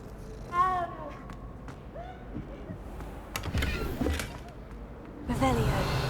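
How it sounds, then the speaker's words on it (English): A cat in the Hogwarts Legacy video game gives a few short rising meows at moderate volume, with game ambience and a speaking voice around them. "Kitty! These guys must be around for pest control."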